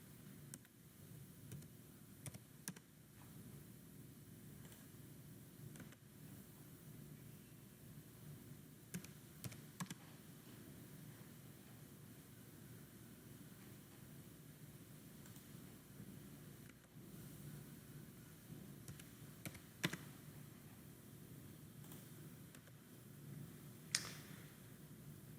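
Typing on a computer keyboard while modelling walls for a tiny house in SketchUp, scattered key taps and clicks in short bursts, faint and close over a quiet room hum.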